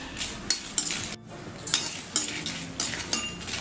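Dried red chillies dry roasting in a pan, stirred with a metal spoon: repeated scraping clinks against the pan at an irregular pace over a soft crackle, close and fairly loud, with no talking.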